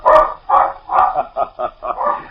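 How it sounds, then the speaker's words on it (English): A black and white water spaniel on a beach gives a quick run of loud, close barks and yips, about seven in a row in an uneven rhythm. "A black and white water spaniel roaming in the brush suddenly springs out on the sand and, plumed tail aloft, rushes off the beach,"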